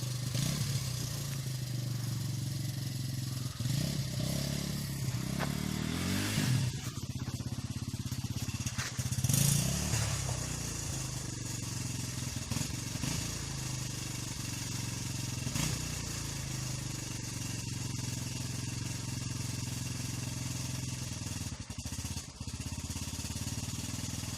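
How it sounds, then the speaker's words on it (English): A Honda XL125S motorcycle engine revs continuously while stuck on a muddy green lane, close and loud, rising and falling in pitch with a few sharper throttle blips. "Or might be trying to drive the bike out."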